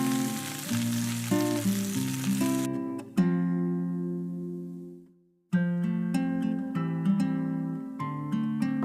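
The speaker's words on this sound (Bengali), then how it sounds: "পেঁয়াজ কুচিটাকেও ব্রাউন করে ভেজে নিতে হবে" Chopped onions fry in hot oil for an egg and pointed gourd curry, a steady sizzle for the first few seconds under loud background music, after which the music carries on alone.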